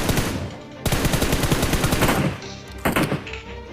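Gunfire in the PUBG Mobile video game, a rapid burst of automatic shots followed by a longer rattling volley, a pause, then another short burst, loud and close.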